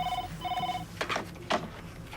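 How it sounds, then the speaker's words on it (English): A telephone bell rings twice in steady bursts at a domestic setting, moderately loud, followed by voices talking over the end. "it's only a phone, Eileen."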